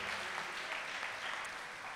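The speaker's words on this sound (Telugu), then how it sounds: "చప్పట్లు కొట్టి దేవుణ్ణి స్తుతిద్దామా" A church congregation at a ministry calendar inauguration in Guntur claps hands in praise, a faint, steady wash of distant applause.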